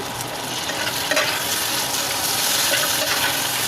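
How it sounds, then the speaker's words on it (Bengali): Spiced masala with three added tomatoes sizzles steadily in a pan while being stirred, a continuous close frying hiss with soft scraping throughout and no talking. "একটু ভালোভাবে নেড়ে চেড়ে মশলাটা কষিয়ে নেবেন।"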